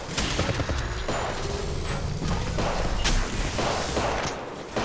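Rapid bursts of gunfire crackle through a battle royale match in Apex Legends Mobile, dense overlapping shots close by with sharp cracks standing out, and no talk over them.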